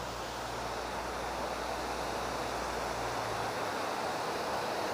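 Silver Falls waterfall in Kodaikanal gives a steady, unbroken rush of falling water, a soft and even roar heard from some distance with no voices.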